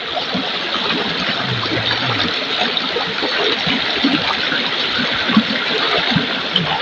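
Stream water flows and trickles steadily over rocks, a constant close wash of splashing and gurgling with no talk over it.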